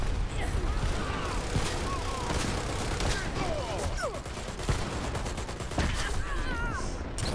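Shotgun fire in the online shooter Dirty Bomb, loud repeated blasts over a busy, dense game soundscape with scattered chirping effects.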